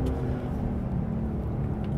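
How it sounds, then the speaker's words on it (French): A flat-six sports car engine runs steadily while driving, giving a continuous low droning rumble at moderate volume with no voices. "le hurlement du flat 6 là, c'est fou"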